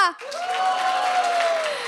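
A hall audience at the 2025 Korean speaking contest for international students applauds and cheers to welcome a singer-songwriter to the stage. There is a short, full burst of crowd noise with a sustained whistle-like tone.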